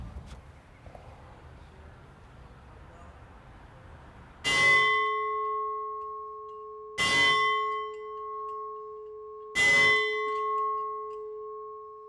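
A handheld bell rung in protest at an execution, struck three times at slow, even intervals, each stroke loud and clear with a long ringing decay after a quiet, faintly noisy opening.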